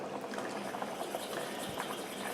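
Water pours steadily into a pot of alfredo sauce on the stove, a continuous close splashing and gurgling wash with no voices.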